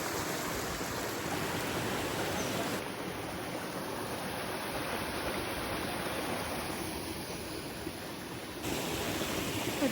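Mountain spring water flows beside water tanks in a village setting, a steady broadband rush of moving water with no breaks, fairly soft and continuous throughout.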